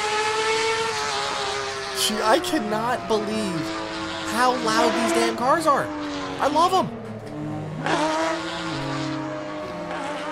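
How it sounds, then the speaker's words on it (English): Loud, high-revving racing car engines in a video game, including a 500hp Porsche 911 GT3 with manual gearbox, whine and shift pitch repeatedly, continuous throughout, with someone talking over them. "I cannot believe how loud these damn cars are"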